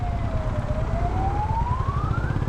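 An ambulance siren wails on a mountain road, a single rising tone over heavy, rumbling traffic and engine noise, fairly close and steady throughout.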